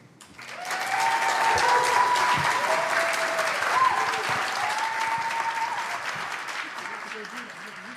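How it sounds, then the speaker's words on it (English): Applause from an audience at a fundraising lunch for blind and visually impaired people: a full room claps steadily for several seconds, with voices and a cheer or two over the clapping before it slowly eases. "Can we keep the applause going for Margaret as she makes her way back to her seat?"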